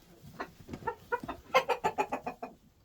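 Chickens and roosters cluck in a coop, a close run of rhythmic, rising clucks that quickens into a dense burst of about a dozen calls before fading.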